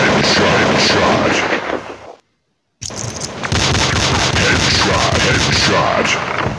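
Rapid gunfire and explosive bursts from the Critical Strike GO team shooter game, loud and dense, cutting out briefly before resuming with a steady barrage.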